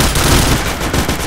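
Dense, loud bursts of automatic gunfire from the video game Point Blank, rapid overlapping shots filling the whole moment with no talking.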